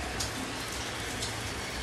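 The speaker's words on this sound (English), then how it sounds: "We've got some good rain coming down at the moment." Steady rain patters softly and evenly, a faint continuous hiss of drops with no other sounds.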